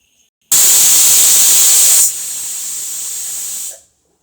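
A pressure cooker whistle releasing steam while cooking brinjal: one loud, sustained hiss bursts in suddenly, drops to a slightly softer steady rush partway through, then fades out.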